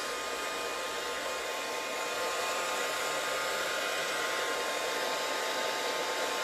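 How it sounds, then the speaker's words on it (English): A blow dryer runs steadily while drying a chalk transfer on a Dollar Tree magazine holder, a continuous airy whoosh with a faint motor whine, constant and unbroken for the whole stretch with no talk. "now we can use the blow dryer to dry it"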